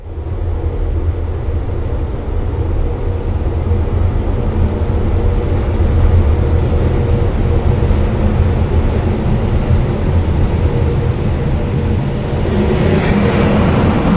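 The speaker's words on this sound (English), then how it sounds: "So at this point a freight train came." A freight train rumbles through a double-track railway tunnel near Genoa, Italy, a loud, steady, boomy roar of rolling wagons that holds unbroken and close for the whole span.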